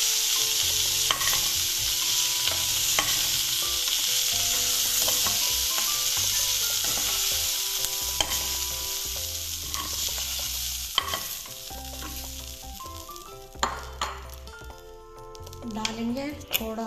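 Cauliflower florets frying in hot oil in a pan for aloo gobi, a steady sizzle broken by repeated scraping stirs of a spatula. Faint music plays underneath, and a voice may be heard at times.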